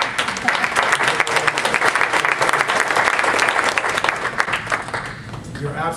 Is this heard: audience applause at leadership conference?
yes